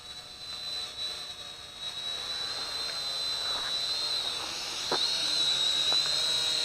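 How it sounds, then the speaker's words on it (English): A tiny quadcopter drone hovers close by, giving off a steady, high-pitched whine with faint rotor buzz, heard alone without voices. "Very stable quadcopter."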